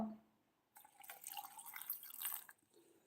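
Water poured in a small amount over pomegranate seeds with cardamom pods, a splashing, trickling stream lasting about two seconds after a quiet start, fairly faint and close.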